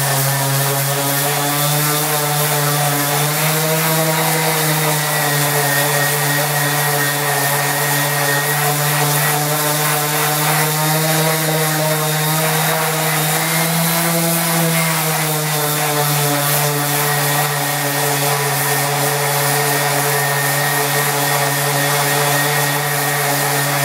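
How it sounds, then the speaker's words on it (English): A 120-grit random orbital sander drones steadily and loudly throughout, a constant buzzing motor whine that wavers slightly in pitch, with no talking. "this is 120 grit random orbital, and that'll blend these in real nice"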